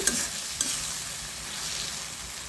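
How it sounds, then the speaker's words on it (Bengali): Tomatoes sautéed with spice paste in a pan for a fish curry, a soft continuous sizzle with a couple of quick stirring scrapes near the start, close and steady, no voices. "এখন এই মশলার সাথে সুন্দর করে টমেটোটা কষিয়ে নিয়ে তারপরে কিন্তু আমি ঝোলের জন্য জলটা দিয়ে দেব"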